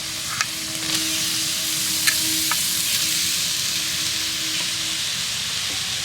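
Boiled soybean chunks are stirred into a spice masala and fried in a pan. A steady hiss carries a faint, occasional clink of the spatula, and there is no speech.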